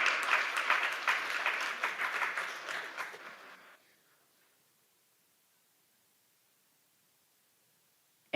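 Audience applause at a forum on food access in Arkansas as panelists enter, a brisk burst of many hands clapping that tapers off after about four seconds into silence.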